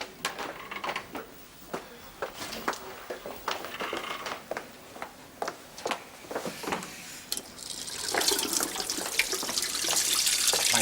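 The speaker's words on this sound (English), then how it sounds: "I'm just running some cold water on my wrists." Cold water runs from a tap into a sink, with short splashing bursts and knocks at first, then a steady, louder hissing stream that builds toward the end.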